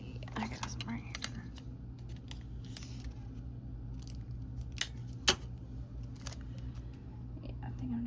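Adhesive tape is cut with scissors and pressed onto a reading journal page, giving a few sharp close snips and crinkles over a quiet room hum.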